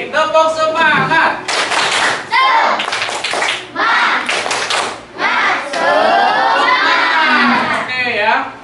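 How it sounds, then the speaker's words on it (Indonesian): Schoolchildren at a teachers' showcase event perform a rhythmic spirit clap in loud bursts of clapping and shouting, pausing between phrases, with young voices chanting along close by. "Sekali lagi, tepuk semangat."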